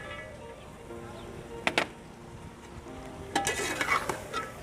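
Chillies and green peas are stirred in a pan for matar pulao, with two short clattering scrapes of a spoon against the metal between quieter moments, close and fairly soft.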